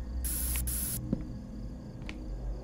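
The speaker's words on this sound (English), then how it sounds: "I have bear spray." Bear spray blasts in the Fears To Fathom horror video game: two short, loud hissing bursts in quick succession, followed by faint clicks and a soft thud in a quiet room.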